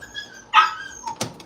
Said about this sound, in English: You need to feed your dog, man.